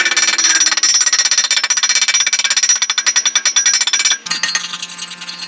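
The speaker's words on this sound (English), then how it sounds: "I'll break the slag off here in just a second" Rapid, close metallic chipping and scraping as slag is knocked off a fresh stick weld made with an inexpensive Temu welder, a steady percussive rattle that briefly stops and then resumes more softly.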